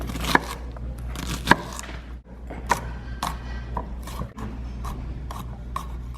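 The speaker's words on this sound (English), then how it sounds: "First we're going to cut up our onions and garlic." Onions and garlic being cut with a knife on a board, a run of close, irregular chopping taps and scraping strokes over a low background hum, with no talk.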